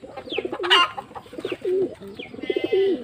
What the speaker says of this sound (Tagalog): Ito yung dati kong kalapati, itong Grisel.